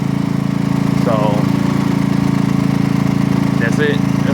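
Riding lawn mower engine running after being spun up with a power drill, a steady, loud, throbbing mid-pitched drone held throughout, with brief faint squeaks on top.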